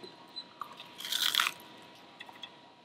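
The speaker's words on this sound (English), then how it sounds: "It has a crunch to it without the wrapper." A single crunchy bite of blue line snapper ceviche with fresh vegetables, a short, close crackling crunch in the middle of a quiet moment, followed by a few faint chewing clicks.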